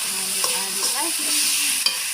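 Fried sambal with salted fish is stirred in a pan, a steady close hiss of frying under a few soft scrapes and taps of the spoon, with a sharper knock near the end.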